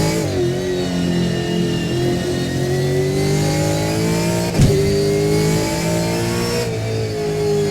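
A Gen3 V8 Supercar from AK Racing, simulated in Assetto Corsa, revs loud and close with a steady, sustained engine roar, a sharp thud of a gear change landing just before the midpoint.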